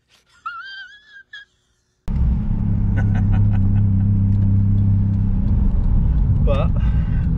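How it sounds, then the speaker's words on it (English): A car with a suspected turbo boost leak whistles steadily while being driven, the loud constant road and engine drone beginning abruptly after a brief quieter stretch with a voice, later rising into a wavering whine. "I think I've got a bit of a boost leak though"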